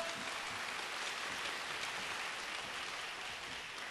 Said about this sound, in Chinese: 再一次给我们理事长热烈掌声